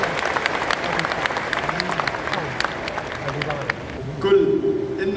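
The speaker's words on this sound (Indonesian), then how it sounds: "Mari kita berikan aplaus yang meriah untuk Dr. Zakir Naik." Audience applause for a lecture by Dr. Zakir Naik at a university hall in Indonesia, steady dense clapping from a large crowd lasting throughout, fading near the end.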